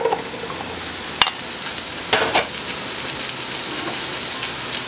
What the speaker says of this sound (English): We're going to start this off with some oil in my hot pan. About 3 tablespoons. And we're going to add the mushrooms.